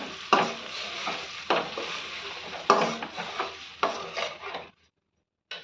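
A spatula scrapes and stirs avial in a pan with a faint sizzle beneath, close, rhythmic strokes about once a second before the sound stops abruptly near the end.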